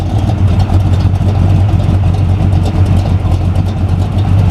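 A Jaguar car with a new 2.5-inch exhaust system and rolled tips runs loud and close, a deep, steady low engine drone with a throbbing exhaust note and no talk over it.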